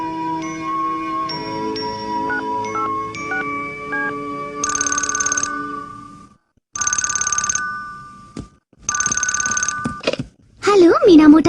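After some light music, a telephone rings in three separate bursts with short pauses between them, then a voice begins speaking.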